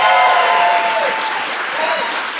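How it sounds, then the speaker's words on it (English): A studio audience at a live show taping claps steadily and loudly throughout, a dense continuous wash of applause with a voice briefly audible underneath. "I can't go to the audience with you clapping me"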